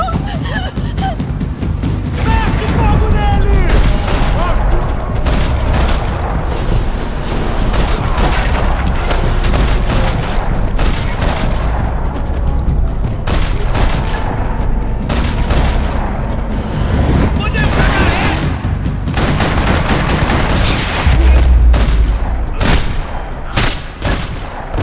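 Gunfire and explosions from the Max Payne 3 video game, a continuous loud barrage of shots and booms with dense, chaotic layering and heavy low-end rumble throughout.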